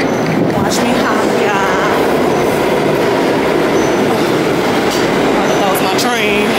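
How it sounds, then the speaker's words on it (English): A New York subway train passing through a station rumbles and clatters loudly nearby, with rolling wheel noise, metallic squeals and rattles continuing the whole time. "That was my train."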